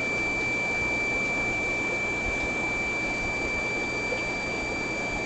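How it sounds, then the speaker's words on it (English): A rotary blower feeding the air system of a fish room runs as a steady, close hiss and hum, with a thin constant whine held above it throughout. "That's a 1/8 gassed rotary blower in the middle."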